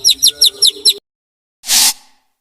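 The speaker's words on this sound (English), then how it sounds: "Chick." A chick gives about five quick, high chirps in a close, even rhythm, then falls silent before one brief burst of breathy noise.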